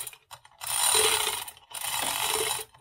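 A jack lifts the front of a 1983 Chrysler Indy 600, two bursts of close, rapid ratcheting clicks separated by a short pause.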